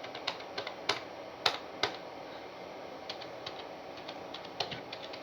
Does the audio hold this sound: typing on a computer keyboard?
yes